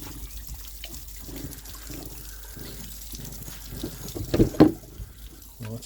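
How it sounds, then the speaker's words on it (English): Water runs from a tap into a container at a coastal stop between Skinningrove and Staithes, a steady low trickle that swells and splashes louder near the end, with no talking. "I'll just put some water in our container in case we want a cup of tea on the way home"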